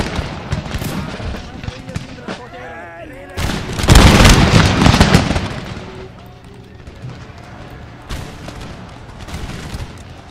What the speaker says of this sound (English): First musket battle going ahead.